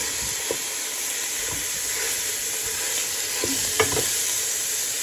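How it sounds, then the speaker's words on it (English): Ground beef for chili sizzles steadily in a pan, with a few scattered scrapes and knocks of a spoon stirring it, close and alone with no talk. "And now that the beef is done cooking,"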